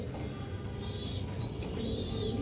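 Pigeons from a breeding pair, male and female with a young chick, coo softly and continuously at close range against a steady low background, with no talking.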